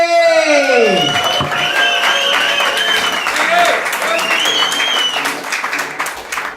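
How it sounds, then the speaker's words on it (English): A pub comedy show audience at a hotel breaks into applause with whoops and cheers as a comedian is brought to the stage, a voice over the sound system ringing above the clapping crowd. "Let's give a massive round of applause."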